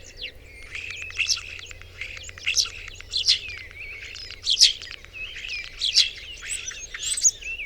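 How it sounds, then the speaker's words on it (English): A juvenile starling calls repeatedly in rough, harsh chirps, about once every second, close and fairly loud over a low steady background hum. "it was visited by a juvenile starling"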